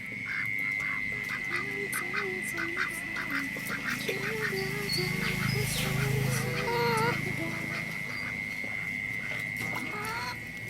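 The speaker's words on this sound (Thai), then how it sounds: "ทั้งไก่ทั้งเป็ดนะคะ" Ducks quack and chickens cluck together in a busy farmyard chorus, steady and close, with a constant high whine running underneath.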